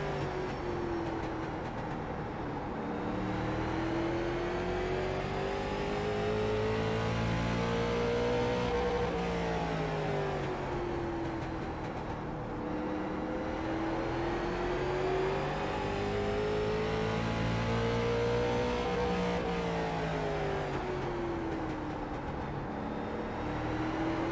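A late model race car engine at Martinsville in the iRacing simulator drones loudly and continuously, its pitch rising and falling in repeated waves as it accelerates out of corners and eases off into them, with no talking.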